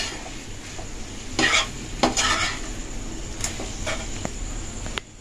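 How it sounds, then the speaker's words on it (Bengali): A spoon stirs a crumbled paneer filling in a hot pan, with a soft sizzle underneath and several sharp scrapes and clinks of metal against the pan, no voices. "পনিরটা দিয়ে 1 মিনিট এটা ভালোভাবে নেড়ে নেব।"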